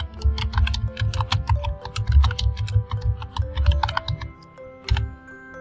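Typing on a computer keyboard, close and clear, with a steady stream of quick key clicks and a few louder keystrokes while a comment is entered in an Excel spreadsheet.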